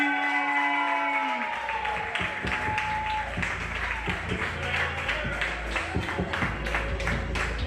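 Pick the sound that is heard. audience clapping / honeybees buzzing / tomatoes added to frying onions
audience clapping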